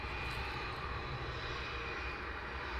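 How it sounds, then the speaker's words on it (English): A business jet taxis at Luton Airport, its engines giving a steady, continuous whine and rumble at moderate distance, unbroken and alone. "And we have our first Bizjet of the day"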